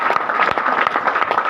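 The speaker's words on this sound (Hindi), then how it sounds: "ताली बजा दें यार" An audience at a network marketing seminar claps together in a lively burst, sharp hand claps repeating quickly and close, loud and steady with no talking over them.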